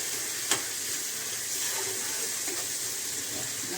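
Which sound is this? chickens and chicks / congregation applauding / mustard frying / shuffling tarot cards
mustard frying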